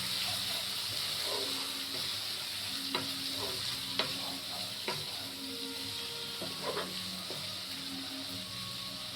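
A spice masala sautés in a pan with a constant close sizzle, while a few sharp clinks and scrapes of stirring stand out at intervals; no voices are heard.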